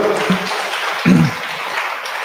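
A campus lecture audience claps in steady, dense applause that holds for a couple of seconds, with a brief low murmur of voices underneath.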